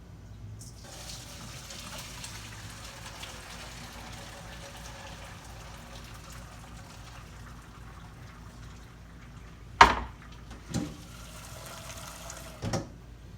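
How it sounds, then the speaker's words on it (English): Turkey stock poured through a colander into a pot makes a steady liquid gush for about nine seconds, then a few sharp metallic clanks of cookware follow. "I'm gonna drain this stock in here."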